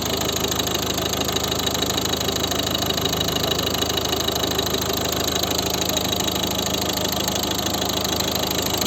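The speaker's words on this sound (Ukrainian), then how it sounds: "Ось робота двигуна." A 2012 Volvo V50 with a 1.6 diesel engine and six-speed manual gearbox idles with its engine cover removed, giving a loud, steady, close diesel clatter and hum that continues unbroken throughout.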